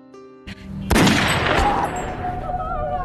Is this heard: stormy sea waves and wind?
no